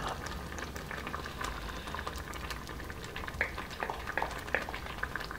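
A pot of sambar with vegetables boils steadily, its bubbling and popping close and continuous, with no talk over it.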